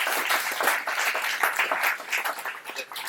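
Audience clapping for the architects at a building's grand opening, a dense burst of applause that stays steady and close for a few seconds, then begins to thin.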